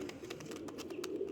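Pigeons coo softly in a short, faint stretch, with low rounded calls repeating over a steady background.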